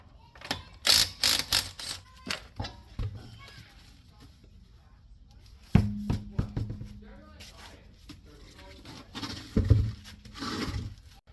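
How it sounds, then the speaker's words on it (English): Jacking up a 2011–2019 Dodge Grand Caravan during a front brake job, with ratcheting clicks and metallic clanks in bursts, close by, while a person talks intermittently. "About to jack this side up"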